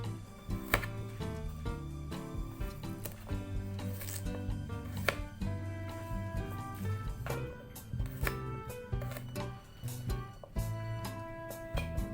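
Knife chopping candlenuts and other washed ingredients for a traditional grilled gourami with sweet soy sauce: a steady run of quick cutting taps, moderately close, under continuous background music.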